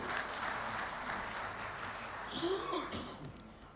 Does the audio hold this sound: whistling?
no